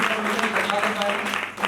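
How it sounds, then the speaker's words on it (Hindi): A brief burst of audience clapping at an indoor meeting, a steady wash of hand claps lasting under two seconds. "एक बार जोरदार तालियां।"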